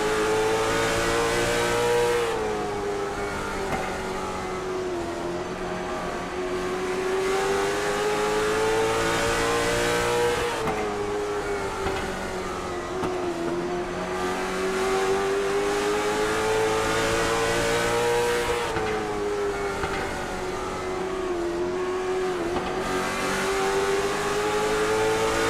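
Onboard an IROC race car lapping the Langley track: a loud, continuous engine roar that rises and dips as the driver lifts and accelerates through the turns, with no talking.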